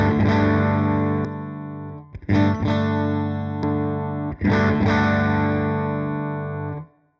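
Electric guitar with a clean tone run through a Blues Breaker pedal, three long ringing chords with slight thickening and brief breaks between strums, loud and close with no talking.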